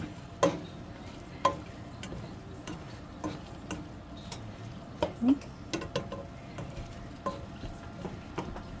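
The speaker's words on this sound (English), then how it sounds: "we're going to give this a little bit of a stir, like that" Seasonings being stirred into a creamy tomato noodle pot: scattered soft spoon clicks and scrapes against the pot over a quiet, faintly sizzling background.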